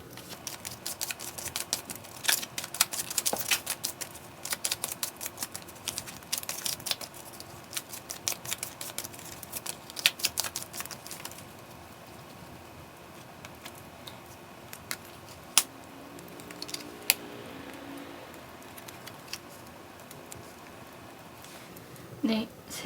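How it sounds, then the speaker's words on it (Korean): Tarot cards are shuffled by hand in a quick, crisp flutter of riffles and taps, close up and fairly soft, becoming sparser toward the end. "저는 카드를 섞어 볼게요."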